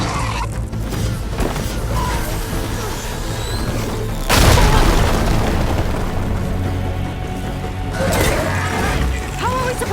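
Loud, dense blast from an enemy machine in Horizon Forbidden West: a continuous roaring barrage with a heavy booming burst midway and another surge near the end, game sounds filling the whole stretch.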